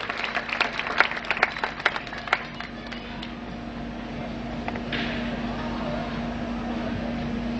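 Brief scattered clapping from an audience at a scholarship distribution ceremony held by a national association for the blind, a few sharp claps in the first seconds that give way to a steady hum.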